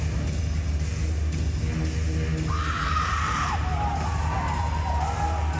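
A female para powerlifter in the women's -41kg final at the Paris 2024 Paralympics lets out a loud, sustained yell midway. An arena crowd screams and cheers around it, continuing after it ends.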